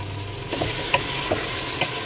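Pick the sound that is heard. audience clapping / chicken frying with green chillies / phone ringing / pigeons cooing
chicken frying with green chillies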